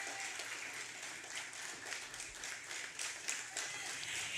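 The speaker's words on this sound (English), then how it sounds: "Give yourselves a round of applause." A crowd claps steadily for award recipients at a school ceremony, a dense, even patter of hands that fills the whole stretch at moderate level.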